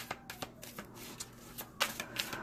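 Tarot cards being shuffled by hand, a run of soft papery flicks and riffles at close range with irregular rhythm, no talking.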